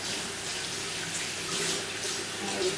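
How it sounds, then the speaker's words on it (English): Hands are washed under a running kitchen tap, a steady close rush of water splashing into the sink with slight fluctuations as the hands move through the stream. "I'm just going to give my hands a quick wash before I put it in the oven."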